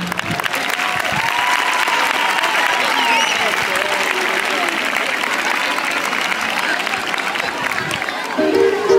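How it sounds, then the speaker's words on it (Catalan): Loud, sustained applause from a large crowd at a school carnival red-carpet entrance, steady dense clapping with scattered cheers running the whole time. "Rebem-los amb un fort aplaudiment."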